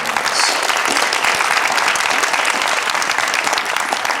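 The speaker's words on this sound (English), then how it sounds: "Please give Terry a big round of applause." A crowd at a community launch event applauds warmly, a dense, loud, unbroken burst of many hands clapping close by for over four seconds.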